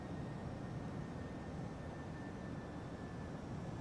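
Boeing 757 jet engines in a flight simulator spool back to a steady, broad low roar with a faint high whine, continuous and even throughout, with no voices.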